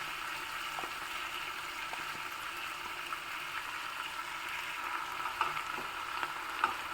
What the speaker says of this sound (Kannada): ಚೆನ್ನಾಗಿ ಎಣ್ಣೆಯಲ್ಲಿ ಫ್ರೈ ಆಗಿದೆ ಈಗ ಅದಕ್ಕೆ ನಾವು ರುಬ್ಬಿರುವಂತಹ ಮಸಾಲೆ ಮಿಶ್ರಣವನ್ನು ಹಾಕ್ಕೊಳ್ಳೋಣ